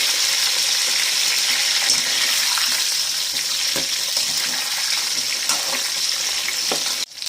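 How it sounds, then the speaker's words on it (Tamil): Brinjal pieces fry steadily in oil for a Tamil tamarind curry, a dense continuous sizzle with faint crackles and pops, close and loud, with no talking. "கத்திரிக்காய் வந்து நல்லா கலர் மாறணும் இந்த எண்ணெயிலே தான் வேகணும்"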